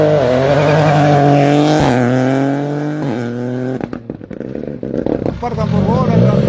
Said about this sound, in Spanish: Ya vienen más atrás también los coches de Andahuaylas.